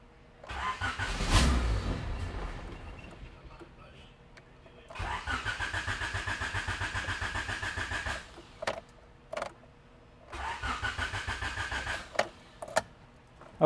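A Honda EF hatchback engine cranks on starter fluid in two long, loud, rhythmic whirring bursts separated by short pauses, with a brief cough and catch near the start and some nearby talking between the attempts.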